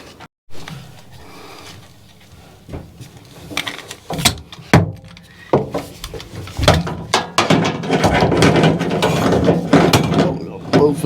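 Metal bath shower mixer tap fittings fitted with new fibre washers are tightened by hand tool, giving close, irregular ratcheting clicks and scraping clanks that grow denser and busier toward the end, with no talk.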